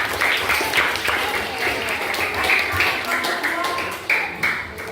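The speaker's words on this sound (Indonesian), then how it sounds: "Sebelum dimulai presentasi, boleh tepuk tangan buat kita semua." Steady classroom applause at a science open class, dense clapping throughout, fairly loud, with some voices mixed in underneath.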